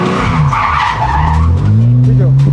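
A car drifting under throttle during a drift lesson gives loud, sustained tyre skidding and squeal over a rising engine note, with a person's voice audible alongside.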